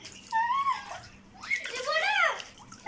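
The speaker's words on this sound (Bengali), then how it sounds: "এই জল ছিটাবি না কানে যাবে" Bathwater sloshes and splashes as a child plays in a tub, with high child vocalizing and chatter over the watery movement.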